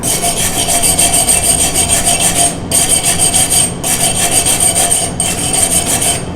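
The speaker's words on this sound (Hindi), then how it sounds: "वो स्टील की वायर का एक ब्रश है, इसको क्लीनिंग ब्रश कहते हैं, इससे आप उसको क्लीन कर देंगे" A steel wire cleaning brush scrubs slag off a butt-joint weld in a welding shop, a loud rasping rub in steady strokes with brief pauses between passes.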